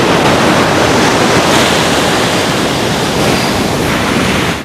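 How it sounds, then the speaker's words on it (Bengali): Big ocean waves break on the shore at Bagda Beach in Odisha, a loud, continuous roar of surf with wind that stays steady and close for the whole stretch. "কত বড় বড় ঢেউ আসছে দেখুন।"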